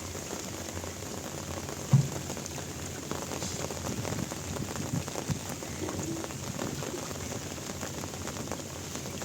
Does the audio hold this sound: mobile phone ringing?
no